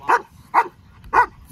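German Shepherd barking three times in an evenly spaced rhythm during protection suit-work drills, deep, loud and close, with no talk over it.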